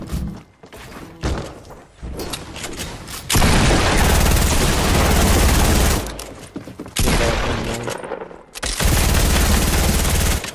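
Gunfire rattles in a Fortnite Battle Royale match, with loud bursts of rapid automatic fire and heavy thumps coming in long stretches, broken by short gaps.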